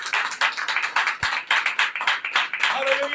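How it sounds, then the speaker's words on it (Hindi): A church congregation claps loudly in a quick, even rhythm of sharp repeated hand claps, with voices mixed in under the clapping. "जोरदार ताली बजा के प्रभु को धन्यवाद करें"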